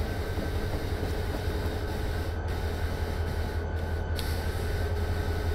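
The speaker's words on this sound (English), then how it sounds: "There's a train out there." A train passes outside, heard as a continuous low rumble with a steady mechanical drone and a few brief clanks, and no talking.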